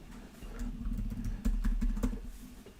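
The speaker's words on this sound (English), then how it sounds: "I'm typing to like two different screens" Rapid, uneven keystrokes clatter on a computer keyboard nearby, a steady patter of clicks with a few louder taps, and no voices.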